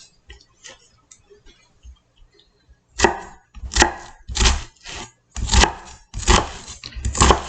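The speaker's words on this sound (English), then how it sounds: "in order to cut the onion." A knife dices an onion for tomato sauce. Light scattered taps come first, then a run of firm, evenly spaced chopping strokes close by on a cutting board.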